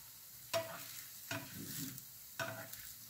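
A pancake frying in a non-stick pan: a quiet, soft sizzle with three distinct scraping or stirring strokes spaced about a second apart.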